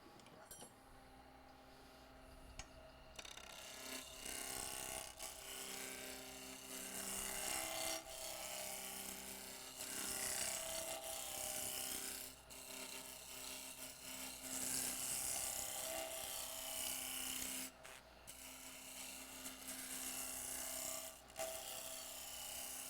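A 1.25 inch roughing gouge cuts into a spinning wooden bowl blank on a wood lathe, a steady loud rasping, scraping roar with brief breaks where the tool lifts off, continuing for over twenty seconds without talk.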